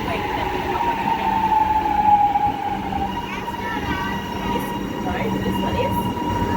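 A Melbourne Frankston line train pulls into a station platform, its steady rumble broken by a rising wheel squeal and track noise, with people talking nearby.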